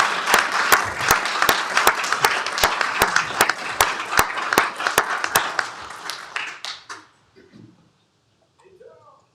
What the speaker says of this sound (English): How about a big round of applause for City of Arlington and their leaders?